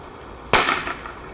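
A lit firecracker explodes with one sharp, loud bang and a short fading crackle, standing alone against quiet outdoor background.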